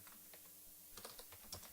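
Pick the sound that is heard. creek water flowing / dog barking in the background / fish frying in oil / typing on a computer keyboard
typing on a computer keyboard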